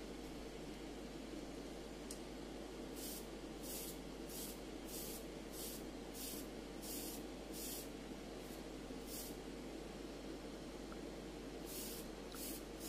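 An airbrush sprays olive drab paint onto model parts for a WWII diorama, in roughly ten short hissing bursts of about half a second each, close and steady over a constant low hum from a compressor or fan.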